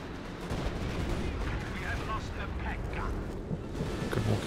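Stuka dive bomber strike in Company of Heroes 2 explodes amid continuous battlefield gunfire and artillery rumble, a dense loud bed of explosions and shots with a commentator talking over it.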